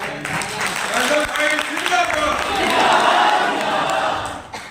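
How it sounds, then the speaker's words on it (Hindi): An audience at a national youth conference against inequality and discrimination gives a loud burst of applause with some cheering. It lasts a few seconds, then fades, while a voice speaks over it. "एक जोरदार ताली के साथ"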